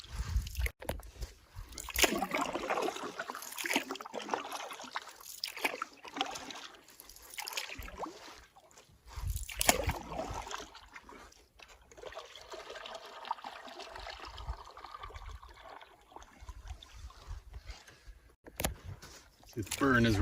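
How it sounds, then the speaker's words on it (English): A solo canoe paddle dips and pulls through glassy, windless lake water in Woodland Caribou Provincial Park, making soft, continuous trickling and swishing strokes close by. "Been paddling for about 4 kilometers so far"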